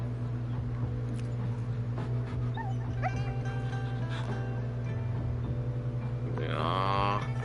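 A puppy in the Wuthering Waves game whimpers and yips in short, high cries. Steady game music and ambience hum underneath, with a brighter swell near the end.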